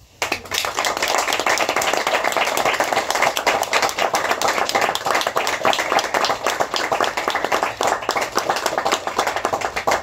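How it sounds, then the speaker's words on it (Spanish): An audience at a book launch for a collection of guerrilla poems from Kurdistan claps in memory of the book's translator, with steady, close, dense clapping that fills about ten seconds. "me gustaría que le hiciéramos un aplauso."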